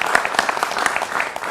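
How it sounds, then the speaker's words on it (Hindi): A brief burst of studio audience clapping for guests on a Hindi television debate show, with distinct individual claps close by forming a lively, fairly loud patter. "जोरदार तालियां हमारे मेहमानों के लिए"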